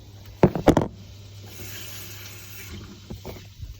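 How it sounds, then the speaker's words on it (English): Tap water is poured into a pan of sliced onions, opening with a few sharp splashes and clanks, then a softer running hiss that fades before a couple of late knocks. "I'm adding water"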